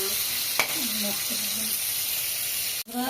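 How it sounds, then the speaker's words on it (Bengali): Fish sizzles steadily in a hot pan of oil, a continuous close crackling hiss with a faint voice in the background. "আর এই যে মাছটা ভেজে নিচ্ছে বন্ধুরা।"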